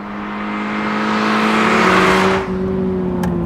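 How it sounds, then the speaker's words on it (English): Toyota GR86 with a 2.4-liter flat-four engine revving up, a steady rising drone that swells loud, briefly dips, then holds on as the car pulls. "I never liked how the other engine sounded, and this one sounds great."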